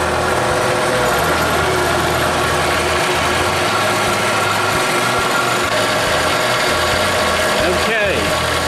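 A Wen 4214 variable-speed drill press runs at high speed, around 3,000 RPM, a loud continuous motor whine with belt and pulley rumble, steady throughout and close.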